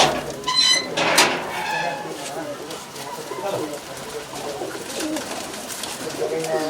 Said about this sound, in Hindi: सारे एक नंबर की क्वालिटी कबूतर भाई के